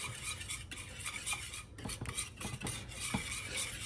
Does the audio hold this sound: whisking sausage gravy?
yes